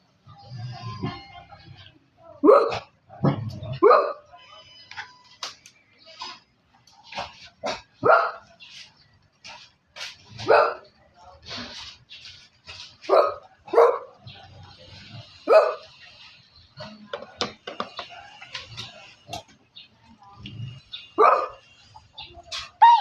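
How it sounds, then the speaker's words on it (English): A puppy barks repeatedly indoors, sharp yips and woofs in irregular bursts spread across the whole stretch, fairly close, with quieter shuffling noises between them. "Puppy!"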